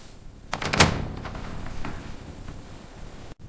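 A door opens slowly, beginning with a cluster of knocks and clicks from the latch and handle, then a few softer scrapes and creaks that fade into quiet room hiss.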